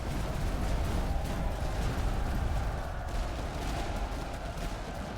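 A musket volley from grenadiers in the Master of Command game, heard as a dense crackle of massed gunfire over a continuous low rumble of battle noise, with no talking.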